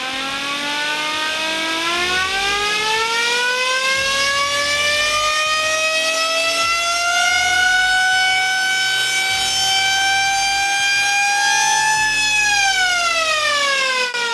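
A loud, reverse-engineered industrial siren wails continuously, its pitch climbing slowly and holding high before sliding down near the end, with no talking.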